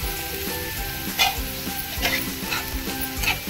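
Onion with curry leaves, crushed garlic and salt sizzling and being stirred in a pan, a loud, close, continuous fry with scraping stirs over it and no voices.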